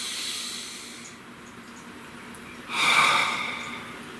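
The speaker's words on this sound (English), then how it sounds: "Please take a nice deep breath." A single deep breath drawn in and let out near the microphone, a soft airy hiss that swells for about a second after a quiet pause, with no talking.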